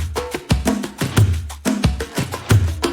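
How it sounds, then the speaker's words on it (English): Electronic beat built from a shaker loop and layered percussion samples, punchy hits repeating in a steady groove roughly twice per second, loud with no voices. "with the shaker and with all the percussion,"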